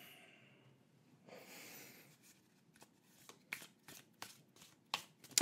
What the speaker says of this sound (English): It shuffles really well.